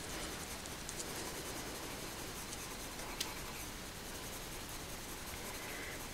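A very soft lavender colored pencil rubbing across an indented stamped print of teacups, a continuous close, quiet scratchy shading hiss with no talking.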